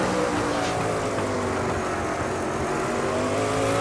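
A sprint car engine from the iRacing sim at Slinger Speedway, a short track, drones steadily and loud throughout, held at partial throttle with no full bursts or lifts, its tone wavering only slightly.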